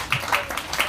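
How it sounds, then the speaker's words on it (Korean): A church audience at a new-year teachers' seminar briefly applauds the kindergarten teachers, a quick run of a few close, rhythmic handclaps. "우리 이분들께 박수 한번 보내주세요."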